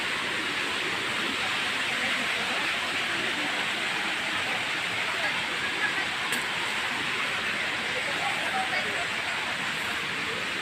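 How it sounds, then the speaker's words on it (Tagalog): Waterfall at a forest camp in Valencia, Oriental, a steady broadband rush of falling water that holds constant and fairly loud, with faint voices now and then underneath. "Ganda ng falls."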